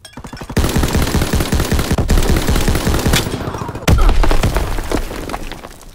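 An M1919 machine gun fires long sustained bursts in a video game, rapid loud rattling shots with a short pause before another heavy stream of fire.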